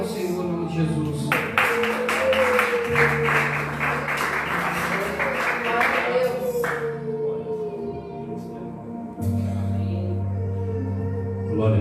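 A church congregation applauding during a service: a steady, dense patter of many hands clapping over organ or keyboard music, lasting several seconds, with sustained notes and a voice heard faintly underneath.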